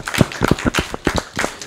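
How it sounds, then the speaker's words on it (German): Scattered hand claps from a few people at a tournament award ceremony, uneven and brief, sounding like light applause fading in and out. "Ist auch ein Applaus wert"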